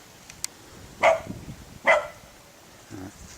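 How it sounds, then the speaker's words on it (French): A dog barks twice in quick succession, sharp and fairly close, followed by a softer low woof. "Ah, les chiens."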